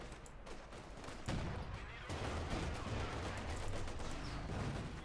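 Panther tank cannon shots in Company of Heroes 2, a Wehrmacht versus Soviet match, with dense overlapping gunfire and explosions forming a loud continuous battle din.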